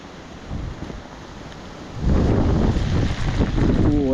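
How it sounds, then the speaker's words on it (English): A blast of wind and rain hits on a footpath by a waterfall at Gayle in stormy weather, rising from a low rumble into a louder, sustained roar against the microphone halfway through. "every now and again I get a blast of wind and rain just like that"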